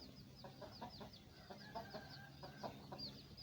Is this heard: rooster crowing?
yes